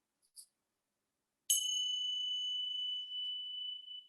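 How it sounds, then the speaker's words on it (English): A meditation bell is struck once after a faint tap, ringing with a clear, pure sustained tone that fades slowly, alone in a quiet room. "I'll ring the bell and begin."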